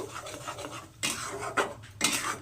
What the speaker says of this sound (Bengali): এবার মশলাটাকে আমি একটু কষিয়ে নেব